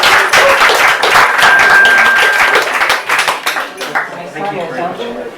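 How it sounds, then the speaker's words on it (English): An open-mic night audience bursts into applause, loud dense clapping for a few seconds that then thins into scattered claps as voices start up. "We want to give him a round of applause."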